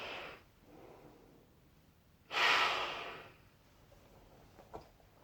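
Breathing through a Fatra-A gas mask fitted with a custom 1985 Type CC canister: a filtered exhale, a quiet pause, then a deep, loud inhale with a hollow rush, followed by softer breathing and a small click.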